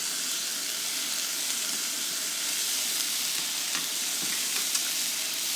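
Garlic tossed into a pan of cooked-down mushrooms and onions frying steadily, a constant close sizzle and hiss with a few faint scrapes and pops as the food is stirred, no voices.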